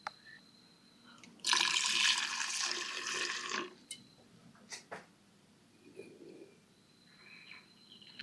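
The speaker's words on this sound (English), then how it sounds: "You can definitely hear it filling up the fuel bowls." Fuel running into the carburetor float bowls of a 1982 Yamaha 650 Seca motorcycle, a close burst of rushing, hissing liquid for about two seconds that tapers off, followed by faint clicks and quiet background.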